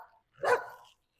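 A puppy at an animal rescue gives a single short, sharp bark, close to the microphone, preceded by a faint yip and followed by silence.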